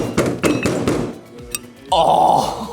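Mallet blows on a part of a Mobylette moped being reworked in a garage: several dull, clanky thunks spaced irregularly, close and fairly loud, with a brief metallic ring near the end.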